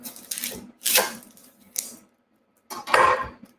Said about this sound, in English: So you're going to start with an onion. Okay, you're going to cut it in half.